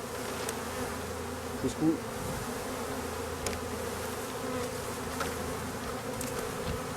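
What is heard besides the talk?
honeybees buzzing at a hive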